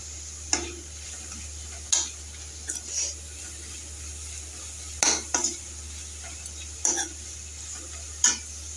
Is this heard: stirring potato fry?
yes